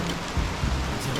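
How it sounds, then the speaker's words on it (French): Rain falls steadily around a cliff during a climbing and canyoning outing, a brief, dense hiss of rain with soft low rumbles beneath it. "On dirait que ça pleut bien."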